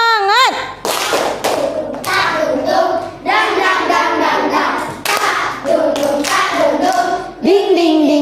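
Children in a classroom perform a rhythmic group spirit clap, tepuk semangat, with sharp patterned hand claps and thumps interleaved with chanted voices, loud and close.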